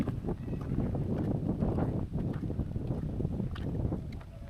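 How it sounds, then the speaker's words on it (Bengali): Strong wind buffeting the microphone in low, continuous rumbling gusts over a flooded village in Cumilla, loud and close throughout. "অনেক বাতাস বইতেছে দেখেন"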